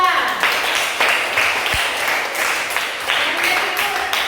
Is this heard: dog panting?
no